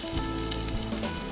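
Duck meat fries in a pan with a steady, close sizzle and crackle that holds continuously, with no voices.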